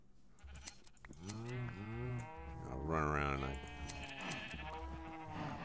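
Farm sheep being chased for wool bleating loudly and repeatedly at close range, long wavering cries overlapping one another, with someone talking in between.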